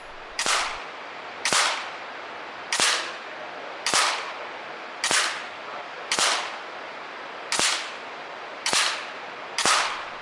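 Ten sharp air rifle shots from an FX Impact or Daystate AirWolf during a target shooting contest, fired one at a time at a steady pace roughly a second apart, each a crisp close crack with a short decay and no talking.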